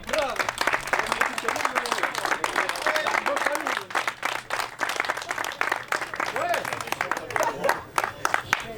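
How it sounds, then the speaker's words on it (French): Applause at the Cantal Motor Show 2021 awards for a red truck named Lionel: steady, moderate clapping from the crowd that continues throughout, with voices talking over it. "On peut l'applaudir, s'il vous plaît."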